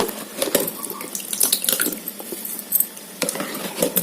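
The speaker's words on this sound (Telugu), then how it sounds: "వాటర్ వేసి కడిగేయాలండి నీట్గా" Overnight-soaked idli rava is washed by hand in water, with repeated splashing, sloshing and squishing close by in short bursts; no voices.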